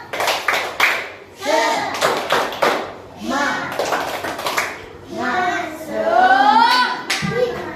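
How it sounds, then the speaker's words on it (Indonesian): A primary school class 3A joins in a rhythmic cheer clap, bursts of hand claps and thumps in patterned groups alternating with children's chanting voices, loud and close in the classroom. "Tepuk semangat."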